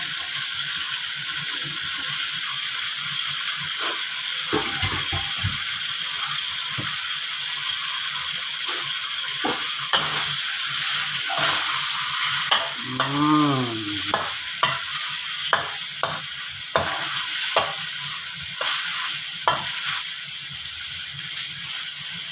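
Catfish stir-fried in chili paste with eggplants in a pan: a continuous sizzle of frying with repeated scraping and clacking strokes of a spatula stirring, close up.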